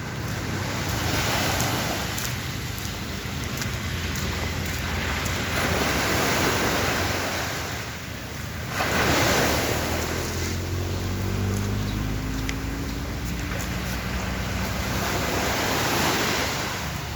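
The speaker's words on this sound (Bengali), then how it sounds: "আরে বাবা রে বাবা, ভালো ঢেউ তো" Ocean waves roll onto Ao Nang beach in Krabi, a steady loud wash of surf with swelling crests and wind noise, unbroken throughout.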